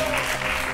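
A studio audience applauds, a dense burst of steady clapping heard close and loud, with a voice faintly underneath.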